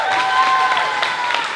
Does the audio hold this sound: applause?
yes